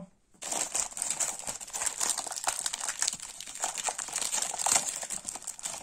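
Paper budget planner opened by hand, giving close, continuous crinkling and rustling of pages that starts abruptly and runs steadily, with no voices.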